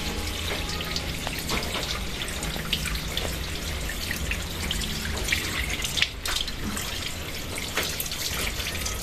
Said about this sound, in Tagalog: Hinuhugasan na po natin dito sa may strainer para ano po, tuloy-tuloy yung tubig.